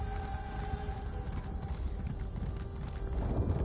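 Horse hooves clip-clop in a steady galloping rhythm in the video game Elder Scrolls Online, quiet and continuous over a soft background.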